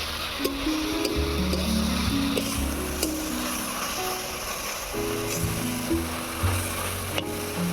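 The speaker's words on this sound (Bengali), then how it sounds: "এবারে পাট শাকটা ভালো করে ভেজে নেব।" Boiled jute leaves fry in a pan with onion, garlic and dried chillies, making a constant close sizzle broken by a few sharp spatter crackles and occasional stirring sounds, with no voices.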